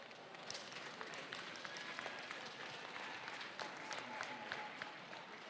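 A hall of teachers at a teachers' conference gives a standing ovation, steady dense applause heard from a distance and holding evenly from start to finish with no speech.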